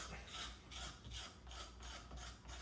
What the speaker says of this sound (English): Give it a little scrape down.